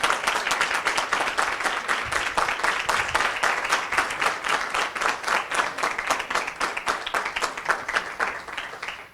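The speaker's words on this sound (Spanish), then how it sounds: "Un aplauso para los 17 que estuvieron acá." An audience at a political conference in Mexico breaks into dense, sustained applause, many hands clapping in a steady rapid wash that continues for several seconds without talk.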